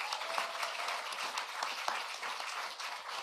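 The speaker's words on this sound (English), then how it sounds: "You can give yourselves a round of applause." Audience applause for scholarship recipients at a student debt relief event in New Mexico: dense, steady clapping from a crowd, fairly distant and even throughout with no talk over it.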